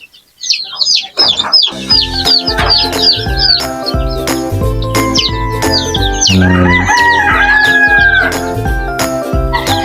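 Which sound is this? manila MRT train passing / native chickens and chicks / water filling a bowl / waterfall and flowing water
native chickens and chicks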